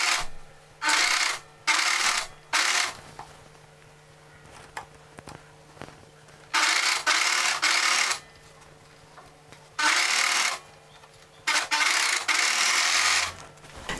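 An overlocker stitching a polo shirt sleeve runs in loud close bursts of whirring, some brief and some lasting a couple of seconds, with quiet handling noise between runs.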